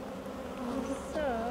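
Steady, close buzzing of many honeybees on a backyard hive during honey harvesting, a continuous droning hum with shifting pitch as individual bees move near and away.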